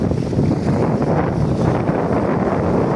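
Steady wind roars across the open beach on a gusty day, a dense broadband rush with low buffeting against the microphone throughout, alone with no voices.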